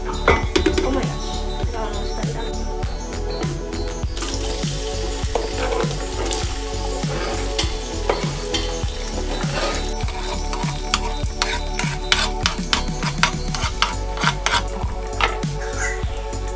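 Coriander, tomatoes and onions frying for chicken biryani, a continuous close sizzle broken by frequent clicks and scrapes of a spoon against the pot, with no talking.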